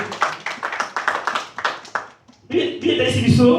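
A church congregation at a Sunday service claps in an even rhythmic beat, close and lively, then a fuller burst of applause mixed with voices takes over.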